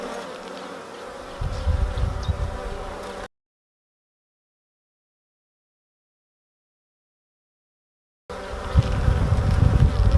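Honey bees buzz steadily during a UK hive inspection, a dense close swarm hum that cuts out abruptly to silence and returns just as loud a few seconds later.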